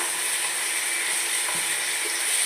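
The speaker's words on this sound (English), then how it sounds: "add our tomatoes and fry them" Tomatoes and spices, including cumin, black pepper and garlic, fry in a pan for a pasta dish, a steady close-up sizzle that holds constant without pause, no voices.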